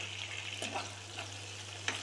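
Onion and tomato sautéing in a pan for a Muslim-style brinjal dish, a soft steady sizzle with a few spoon stirs and one sharp scrape near the end, close and fairly quiet, with a constant low hum underneath.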